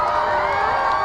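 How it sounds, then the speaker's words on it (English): A large crowd screams and cheers during a solar eclipse, a steady wash of distant shouting and whoops that holds at an even level throughout. "Can you hear that crowd screaming now"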